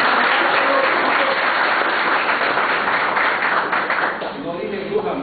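Applause from participants at a peasant leadership training workshop in El Salvador, welcoming a speaker to the floor, loud and steady clapping that thins slightly toward the end, with voices mixed in.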